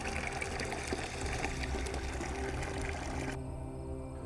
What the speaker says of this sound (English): It takes several flushes of refilling the bucket and carefully pouring off the wastewater